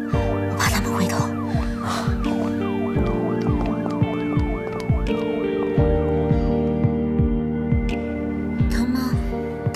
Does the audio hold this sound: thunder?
no